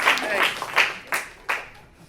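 A short burst of audience clapping and cheering follows the introduction of a speaker at a talk, a few loud rippling waves that fade within a couple of seconds.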